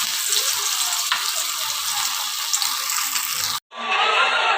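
Kebab frying in well-heated oil gives a loud, steady broadband sizzle with a brief drop partway through before the crackle resumes just as strongly.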